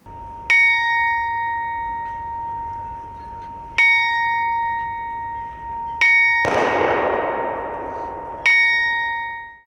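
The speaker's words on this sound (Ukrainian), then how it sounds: "традиційно наприкінці місяця в Івано-Франківську лунає дзвін пам'яті" A memorial bell tolls slowly in a memorial square in Ivano-Frankivsk, four clear strikes spaced a couple of seconds apart, each ringing out and decaying; a burst of noise sits under one strike.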